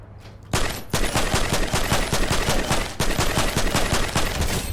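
Automatic gunfire in a video game rattles in fast, evenly spaced shots, loud and sustained through several bursts with a brief break partway.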